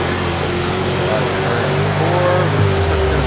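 Sprint car racing in a World of Outlaws dirt-track video game, a continuous loud engine whine with shifting pitch that rises near the end, heard beneath talk.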